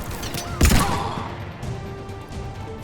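A short burst of heavy gunfire from an enemy manning a mountain gun in Mass Effect 3, one loud impact-heavy blast followed by fading battle noise and rumble.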